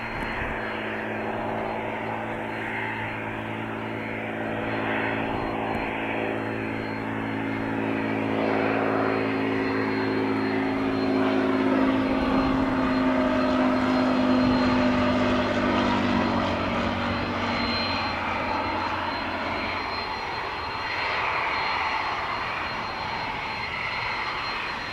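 A light aircraft landing on runway 8 right at Spirit of St. Louis Airport, its steady propeller engine drone loud and sustained, then pitch sliding lower as the plane passes and rolls out.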